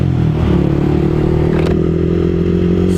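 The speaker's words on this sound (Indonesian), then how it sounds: "Sekalian gue buat manasin motor bray ya." A motorcycle engine idles while warming up at night, a loud steady throbbing drone close by with a brief rattle partway through.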